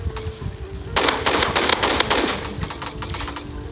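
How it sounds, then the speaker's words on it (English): A shotgun fires and reloads in the video game Energy Assault: a loud cluster of rapid shots and mechanical clatter lasting about a second and a half, then fading into quieter, scattered clicks, with no talking. "Oh my god, the shotgun reloads for so long."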